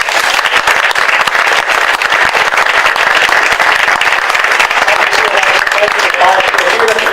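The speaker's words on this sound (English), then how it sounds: "let's give them a round of applause" Audience applause for six mayoral debate candidates in Hoboken, a loud, dense, steady wash of clapping lasting throughout with some crowd noise mixed in.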